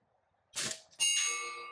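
A rifle shot strikes an RTI Mora steel target. A muffled shot is followed by a sharp, loud metallic clang that rings on with a bright, lingering tone, heard alone without talking.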